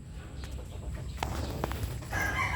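A brooding mother hen clucks in a grass-floored holding pen, a few short, close clucks over soft rustling and a low background hum, followed by a brief louder burst near the end.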